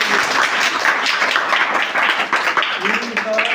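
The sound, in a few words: loud applause for a correct quiz answer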